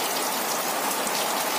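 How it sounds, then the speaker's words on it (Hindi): Heavy rain pours down in a dense, steady hiss across the whole stretch, with no voices, during a sudden downpour in a rural farming area. "बारिश तेजी से आ रही है"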